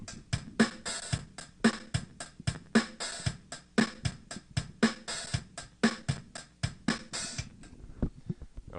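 Programmed drum machine pattern loops with steady kicks and snappy hits, an open hi-hat sizzling on the final sixteenth step of each bar, clear and rhythmic with no voices.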